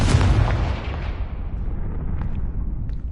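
A loud blasting-spell explosion with a heavy, booming burst up front that rolls off into a long rumbling decay, over a few seconds, with no speech.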